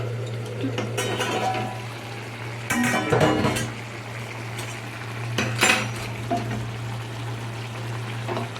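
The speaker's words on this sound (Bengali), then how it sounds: "ঢাকাটা খুলে আমি দেখবো কতটা হলো আমার আলুটা সেদ্ধ" A lid comes off a pot of boiling potatoes with a few close metallic clanks and scrapes, over a constant low kitchen hum and a faint watery bubbling.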